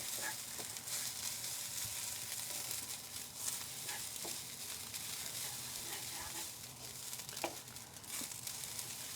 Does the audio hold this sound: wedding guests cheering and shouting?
no